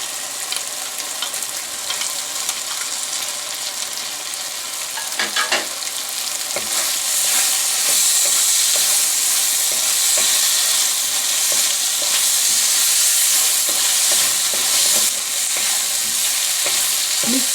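Chopped onion frying in a pan sizzles loudly and steadily, growing more intense partway through, with close scraping stirs scattered across the hiss.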